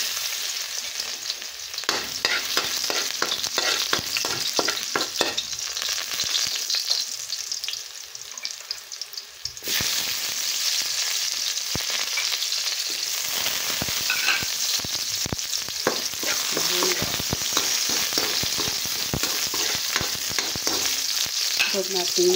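Garlic sautés in a pan for mungbean stew, a loud, continuous close sizzle with crackling bursts and occasional stirring scrapes, no voices over it.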